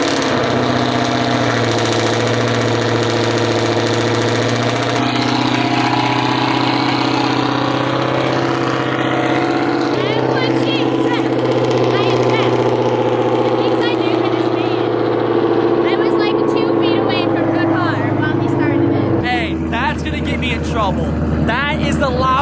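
Loud, deep idle of a modified 700 hp Ford Mustang engine rumbling steadily with a lumpy throb, close by, with people talking over it.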